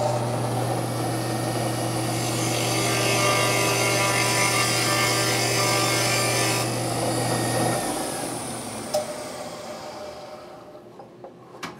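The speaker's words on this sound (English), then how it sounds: "I'm going to change to a 3/4 inch collet and install a 3/4 inch end mill" A router fitted with a 3/4 inch end mill in a 3/4 inch collet cuts into wood, giving a loud, steady, high whine with a grinding edge that runs about eight seconds, then spins down to a few faint clicks.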